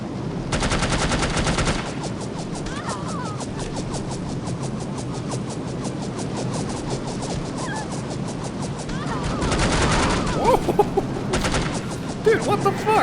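Rapid automatic gunfire and shooting bursts from the video game No One Lives Forever, loud and nearly continuous throughout, with heavier volleys near the start and end.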